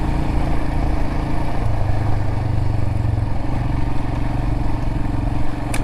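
A Royal Enfield Himalayan motorcycle being ridden through the North Georgia mountains, its single engine giving a steady, close, throbbing drone with wind noise and no talking.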